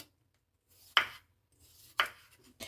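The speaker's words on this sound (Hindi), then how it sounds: "इसके दरमियान में हम कट लगाएंगे और इस तरह से हम इसकी कटिंग कर लेंगे" A knife chops through an unpeeled cucumber on a board, three crisp close cuts spaced about a second apart in a quiet kitchen.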